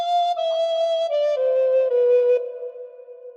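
Recorder playing a short descending phrase of The Star Spangled Banner, six clear sustained notes stepping down in pitch, close and fairly loud, the last note held and fading, with no talking.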